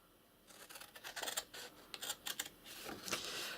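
Scissors snipping along a score line in paper or card for an Easter basket craft, a series of close, crisp cuts in quick irregular bursts with no talking.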